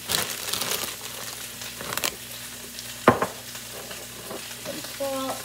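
About a tablespoon of butter sizzling in a hot pan, with bursts of crackling and stirring clatter, a sharp scrape partway through, and a faint hum behind.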